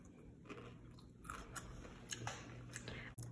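Someone bites into a pickle from a charcuterie board and chews it, with crisp crunches and wet chewing snaps close to the mic in an irregular rhythm.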